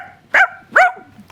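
A dog gives two loud, close barks about half a second apart, followed by a fainter third yip trailing off.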